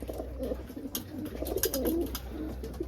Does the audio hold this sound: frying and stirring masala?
no